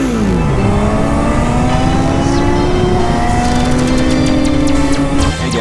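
A 2025 Kawasaki Z125 small motorcycle ridden at speed, its loud engine revving up through rising and falling gear changes under steady wind noise, close and continuous with no talk.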